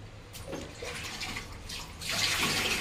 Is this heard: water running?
yes